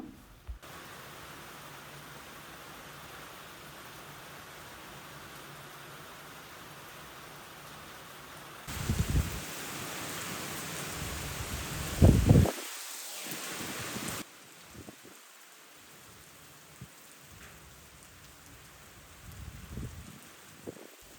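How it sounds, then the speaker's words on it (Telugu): Heavy rain hisses steadily on a farm, growing louder for a stretch in the middle, with a few scattered knocks and thumps. "మేము వచ్చేసరికి పెద్ద వర్షం స్టార్ట్ అయిపోయింది"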